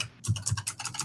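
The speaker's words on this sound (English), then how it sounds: "Furious typing." Rapid, furious typing on a computer keyboard, a dense run of close clicks and clacks after a brief quiet start, with no talking.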